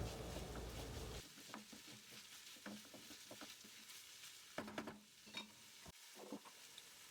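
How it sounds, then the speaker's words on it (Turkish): Ground meat, peppers and tomato sizzle and fry in a pan while a utensil stirs and scrapes at it now and then, close up with no talking. "Hepsini birlikte kavuralım."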